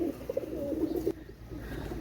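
Pakistani pigeons cooing, a short run of soft, low, throaty coos close by, with a brief pause before the sound fades into background hum.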